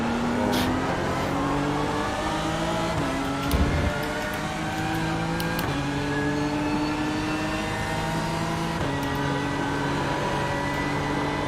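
LMP2 prototype race cars in a racing video game, heard from inside one car as a steady engine drone climbing through the gears with regular shift steps, plus a brief thump partway through.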